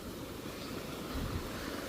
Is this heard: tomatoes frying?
no